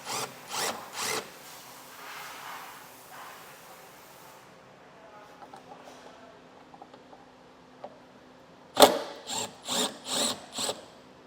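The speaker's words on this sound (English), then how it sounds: "inside we'll find a T30 Torx bit, and we'll remove both of those screws" Power driver with a T30 Torx bit backing screws out of a 2021 Jeep taillight housing: several short whirring bursts at the start, then a quieter stretch, then another run of four or five close, loud bursts.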